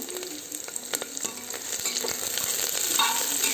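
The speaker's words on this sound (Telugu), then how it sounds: "టమాటోస్ యాడ్ చేసుకుని కూడా ఇది బాగా కాసేపు మెత్తగా మగ్గేంత వరకు వేగనిద్దామండి" Tomatoes and garlic fry in a pan, a steady close sizzle broken by scattered clicks and scrapes of stirring, with no talk.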